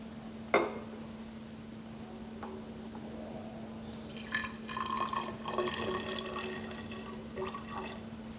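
Rose water is poured into a gel mixture thickened with xanthan gum, a soft liquid trickle and splash building after a sharp initial tap, quiet and close.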